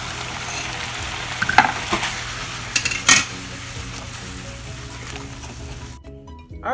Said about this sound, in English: We're just gonna go ahead and add our noodles now, and get that all tossed and mixed together.